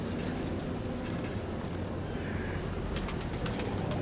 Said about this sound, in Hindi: ले जी इनका एक और कबूतर आया